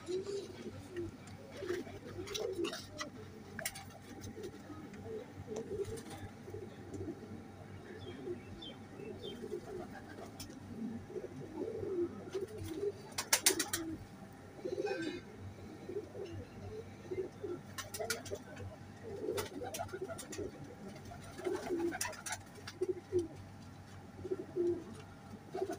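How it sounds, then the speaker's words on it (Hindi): Flying pigeons of the Salary Teddy breed coo in soft, repeated low calls throughout, with occasional chirps and faint background noise. "ये परवाज़ वाले कबूतर हैं, बच्चे उड़ाने वाले"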